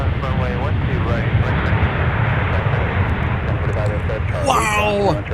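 An airliner takes off from a runway at Minneapolis–Saint Paul airport, its engine roar loud and continuous throughout, while people talk over it and radio chatter breaks in.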